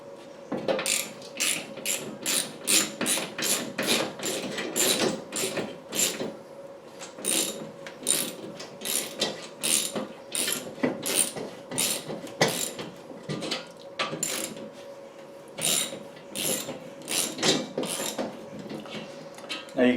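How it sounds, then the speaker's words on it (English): A socket wrench drives a big lag screw with a washer into a 2x4 wall stud for a TV mount, with repeated rhythmic ratcheting clicks in bursts and short pauses, fairly close. "I do have my socket wrench to put this in"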